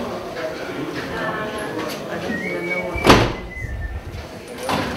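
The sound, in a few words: door being closed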